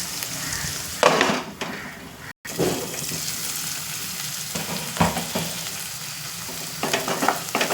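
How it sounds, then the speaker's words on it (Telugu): Sliced onions frying over medium heat in a pan, a steady crackling sizzle with louder bursts as they are stirred, a brief cut partway through, and no speech. "ఉల్లిపాయ ఈ రకంగా వేగితే సరిపోద్ది"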